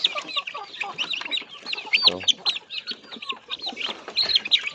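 Several chickens clucking and cackling close by, a busy overlapping chorus of short squawks and bursts with no talking.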